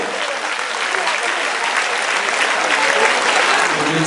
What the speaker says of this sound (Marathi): टाळ्यांचा गजर